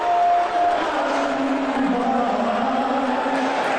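A big, angry crowd keeps up a continuous booing roar, dense and moderately loud, with a brief whistle-like tone near the start.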